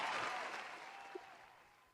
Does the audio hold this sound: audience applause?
yes